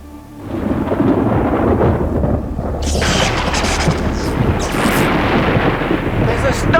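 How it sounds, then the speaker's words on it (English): A heavy thunderstorm with loud rolling thunder over steady pouring rain, continuous and close, the rumble swelling partway through. "There's a storm coming."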